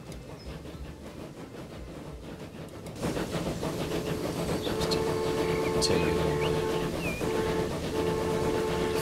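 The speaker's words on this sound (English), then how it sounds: "So here comes the first train on the Gotthard line." A train on the Gotthard line in the game Transport Fever rumbles in, growing louder after a few seconds with rolling rail noise and faint squeals, while someone talks briefly over it.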